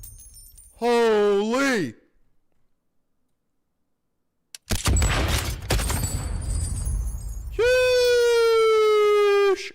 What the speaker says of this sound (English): Goddamn bunker buster bombs going off!